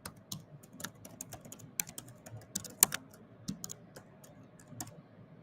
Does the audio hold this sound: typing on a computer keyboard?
yes